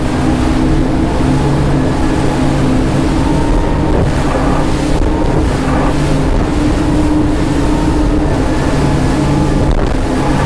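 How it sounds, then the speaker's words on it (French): An Axopar 37 ST motorboat engine drones steadily while accelerating beneath rushing water and wind buffeting the microphone, its loud hum holding even throughout. "On va faire une petite pointe, une petite accélération."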